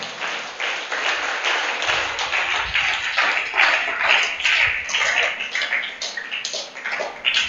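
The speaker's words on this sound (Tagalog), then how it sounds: "Palakpak ulit." Church congregation clapping in sustained applause, a dense, steady patter of many hands filling the room, fairly loud and continuous with no speech over it.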